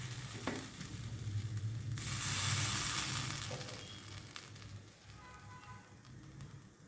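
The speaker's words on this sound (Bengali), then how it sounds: "এবার মশলাটা আমি একটু কষিয়ে নেবো" Spice masala frying briefly in a pan with salt and sugar, giving a soft, continuous sizzle that swells midway. Light stirring scrapes sit close and fairly quiet, and no one speaks.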